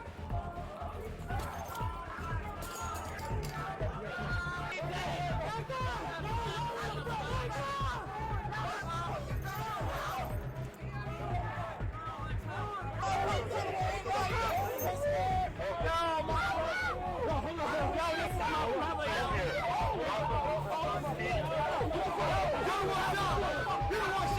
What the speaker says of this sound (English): A crowd gathered around Abdullah, which prevented officers from immediately rendering aid.